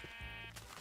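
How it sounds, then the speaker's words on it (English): Sheep giving a single drawn-out bleat, loud and close, lasting under a second. "All the sheep you can hear for the wool."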